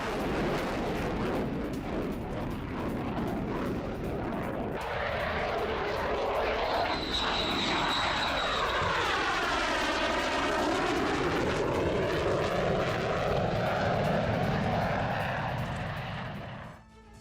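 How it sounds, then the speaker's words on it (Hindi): Polish fighter jets fly overhead, their engine roar swelling and sweeping in pitch as they pass, loud and continuous for most of the stretch before cutting off abruptly. "पोलैंड ने फाइटर जेट तैनात कर दिए हैं"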